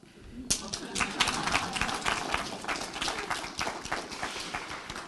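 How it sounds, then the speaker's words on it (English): Audience applause at a community health talk on preventing falls, a steady wash of many hands clapping that starts abruptly and fills the room, with scattered voices and murmurs mixed in. "You can clap."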